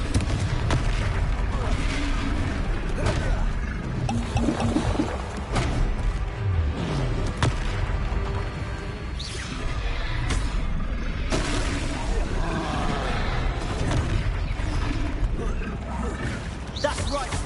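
Repeated fiery blasts of the Confringo spell in the Hogwarts Legacy video game, loud booms and crackling bursts spread through a dense battle soundscape, with character voices talking over the action.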